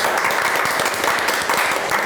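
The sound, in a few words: audience applause of encouragement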